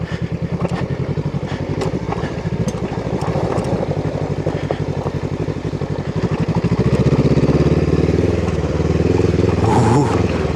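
A Honda CL500 motorcycle rides off-road on sand, its engine giving a loud, steady, close rumble that rises in pitch and intensity partway through as it accelerates, with wind buffeting the microphone.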